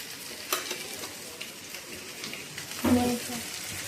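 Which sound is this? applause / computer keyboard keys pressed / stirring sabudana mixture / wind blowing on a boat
stirring sabudana mixture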